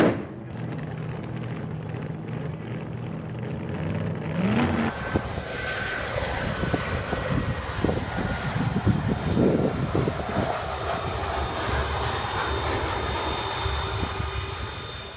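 An airplane flies low near Malaga airport, its engine roar loud and sustained, a broad rumble with a rising whine that stays steady and close throughout.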